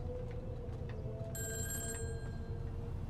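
A phone rings in the GTA 5 video game: a bright, electronic ringtone starts about halfway through and repeats over steady low game background noise.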